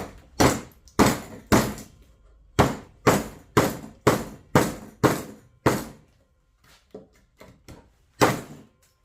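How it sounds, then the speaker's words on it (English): A knife hacked into a piece of wood during a destructive knife test: a rapid series of about a dozen heavy, sharp chopping thunks, close and loud, pausing briefly before a few lighter strikes and one final hard blow. "Let's see if I can just cut a piece of wood."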